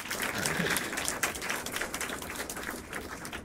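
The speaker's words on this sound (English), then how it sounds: "That's pretty good sizable applause there." Audience applause from a Tiny Desk concert, a dense steady patter of many hands clapping at moderate volume, heard at some distance with faint voices mixed in.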